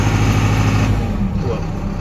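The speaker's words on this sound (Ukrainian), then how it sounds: "чутно, що двигун шумить, але не теребенить нічого" MTZ tractor engine running at normal revs, heard from inside the closed cab: a loud, steady low rumble fills the whole moment, with no break.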